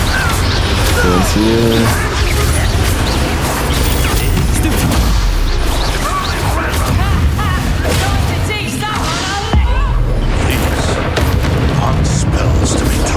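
Fire spell blasts in the Hogwarts Legacy video game, with crashing bursts and impacts packed densely across the stretch while a voice casts spells over the din.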